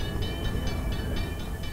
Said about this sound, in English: the train comes to a stop in an open field